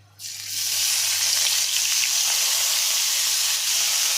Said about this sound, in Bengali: আসলে তেলটা ফুটছে তো হলুদ দিলে আর তেল ফুটে না